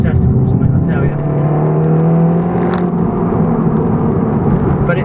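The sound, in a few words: Seat Leon Cupra R hot hatch engine while driving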